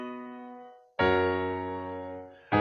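Piano chords struck one after another in a high octave, each ringing bright and sustaining before slowly fading.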